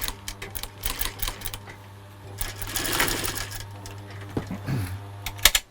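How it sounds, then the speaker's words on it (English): An industrial sewing machine stitches two leather panels of an Anya Hindmarch Maud handbag together, with bursts of rapid mechanical clattering, a longer steady whirring run in the middle, and a few clicks as it stops. The machine is close and there is no talking. "So these are two going to be stitched together now."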